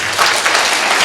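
Audience applause during a church sermon, a brief, full burst of many people clapping together, close and steady.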